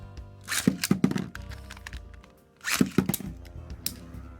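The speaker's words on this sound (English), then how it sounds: "So we will launch in WD first now." Two bursts of a Metal Fight Beyblade WD launch: a sharp crack of the ripcord release and a clattering thunk as the top drops into the stadium and skitters, repeated about two seconds later, close and fairly loud.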